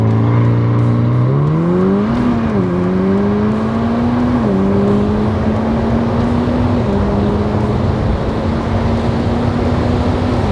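A Ferrari Portofino launches hard, its exhaust roaring as the engine climbs through gears with clear upshift dips, loud and close from inside the car with windows partly down.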